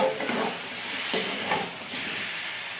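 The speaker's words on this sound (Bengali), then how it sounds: "আলুটা মশলার সঙ্গে বেশ ভালো করে খানিকক্ষণ কষিয়ে নিই।" Potatoes fry in spices in a hot pan, a steady close sizzle and hiss with a few brief stirring swells and no talk.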